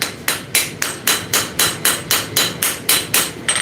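A small forging hammer strikes hot metal in steady, evenly spaced blows, about a dozen sharp ringing impacts in a row, loud and close with no talking.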